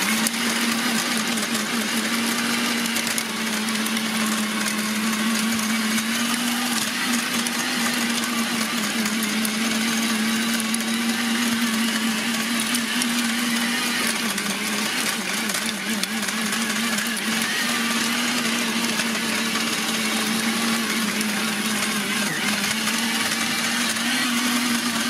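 A Parkside PGK1400 B2 1400 W electric tiller with a 40 cm blade runs steadily and loudly in a garden, its motor giving a continuous even whine with a strong hum and no pauses.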